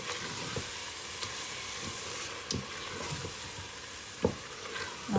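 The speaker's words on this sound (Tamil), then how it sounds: "நல்லா கலந்து விடுவோம்." Chicken biryani mixture with yogurt being stirred in a pot, a soft steady wet rustle with several sharper scrapes and knocks of the spoon against the pot, fairly quiet and alone.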